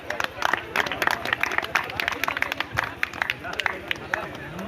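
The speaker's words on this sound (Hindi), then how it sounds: "बजा दीजिए ताली जोर से" Guests at a Buddhist wedding clap loudly and steadily, a dense crowd of hands close by with a buzz of voices underneath.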